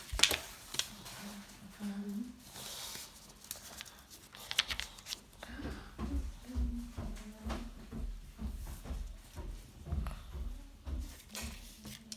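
Tarot cards being shuffled by hand, a steady series of soft papery riffles and slaps repeating in a regular rhythm, close and fairly quiet, with a voice faintly present.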